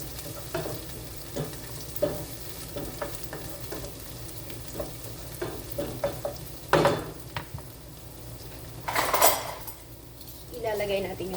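Pork for balbacua fries with a faint sizzle in a pan while a utensil scrapes and clinks against it during stirring, joined by occasional louder knocks.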